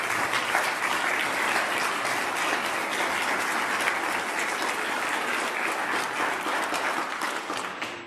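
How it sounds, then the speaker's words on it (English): A school band concert audience in a hall breaks into sustained, even applause, a dense wash of many hands clapping that carries on steadily and tapers slightly at the end, with no talking. "Can you give all of these people a round of applause?"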